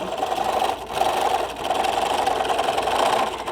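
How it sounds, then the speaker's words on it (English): A sewing machine runs steadily while back stitching a zipper pencil case, its needle whirring at close range with two brief slowdowns where the stitching direction changes. "I'll back stitch a little bit"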